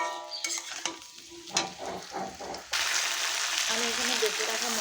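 Potatoes and vegetable stems fry in a pan with ground ginger, cumin and green chili paste, brief clatter and talk giving way to a loud, steady close sizzle.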